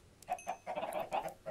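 Minecraft chickens cluck in a quick, soft burst of several clipped calls, fairly quiet and alone.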